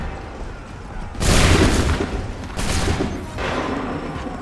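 A musket volley in Assassin's Creed III erupts in a loud, close crackle of massed shots. It fades into a rumble, then two further rolling bursts follow.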